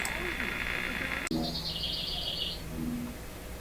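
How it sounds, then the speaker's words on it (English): Birds chirp and sing outdoors in the morning, with a sustained high trilling phrase and a few short lower chirps, moderately clear over a quiet background hum, with a brief sharp click midway and no speech. "other than some bird singing, I don't hear anything."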